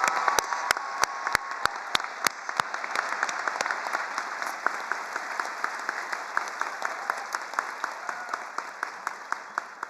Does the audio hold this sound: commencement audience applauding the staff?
yes